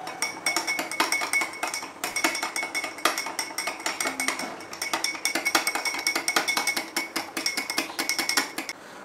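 A spoon clinks rapidly and steadily against a glass while stirring a drink of ground amla (Indian gooseberry) and lime juice, bright metallic taps continuing close up throughout, with no voices.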